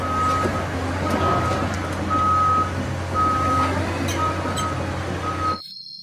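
A toy excavator gives a string of regular electronic reversing beeps over a steady low hum, close and clear, ending abruptly.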